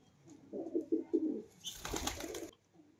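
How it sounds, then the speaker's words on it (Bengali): A Madras pigeon kept at home coos in a short rolling phrase close by, followed by a brief rustling burst like wing flaps. "এই দেখেন ম্যাড্রাস পায়রা, ম্যাড্রাস।"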